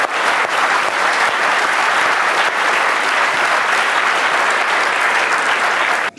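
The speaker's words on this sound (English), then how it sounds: "I think that deserves an applause." Audience applause after a talk on AI, a dense, loud, steady clapping that runs unbroken for several seconds without any voices over it.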